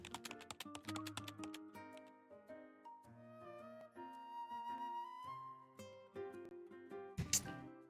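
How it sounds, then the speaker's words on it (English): Fast typing on a computer keyboard, a steady stream of quick key taps running under soft tonal background music, with a louder burst near the end. "My fingers fly across the keys and data fills the screen line after line."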